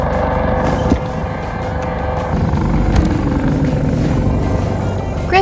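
An outboard engine on a sailboat runs loudly and steadily after being restarted following a stall, a close, continuous mechanical drone with a few sharp knocks along the way.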